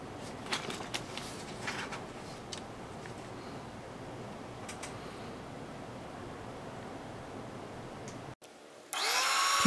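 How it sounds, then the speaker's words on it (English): A steady, quiet whirring drone of a small high-speed drill boring a circuit board runs continuously with faint clicks, then cuts off and shifts to a brighter hiss at the end. "PCB drilling."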